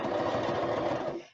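A sewing machine stitches through a paper card for a minibook, giving a steady, close, continuous mechanical whir that runs without pause for just over a second before stopping abruptly, with no talk.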